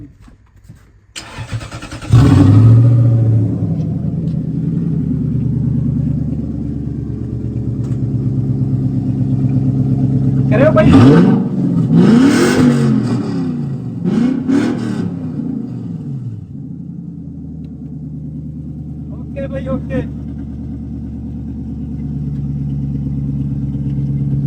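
A car engine cranks and catches, then idles with a deep rumble and revs up several times; a voice speaks briefly.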